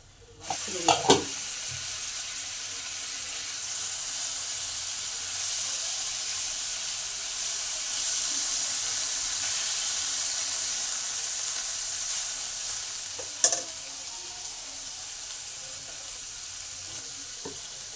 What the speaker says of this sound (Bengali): যাতে কপিটা ভাজা ভাজা হবে আর সেদ্ধও হবে